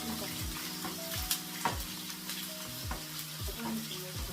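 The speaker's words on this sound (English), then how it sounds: "I think the oil is hot enough for me to add my onions" Onions frying in hot oil in a home kitchen: a steady close crackling sizzle with occasional sharper pops and a few short clinks of a utensil, moderately quiet, with no talking.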